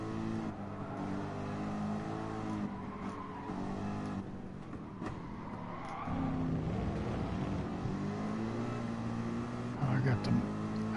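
Mercedes GT engine droning steadily in a racing video game, with people talking over it throughout and a louder burst of revving near the end.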